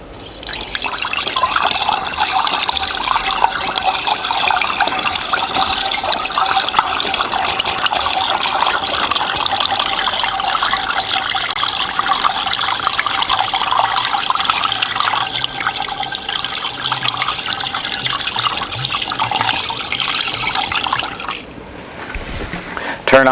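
Chlorinated water pours into a CB-350 countertop batch freezer in a steady, continuous rush that lasts about twenty seconds before stopping abruptly.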